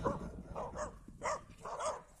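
Two dogs bark at a distance during a walk to a river, several short bursts of barking recurring over ambient outdoor noise.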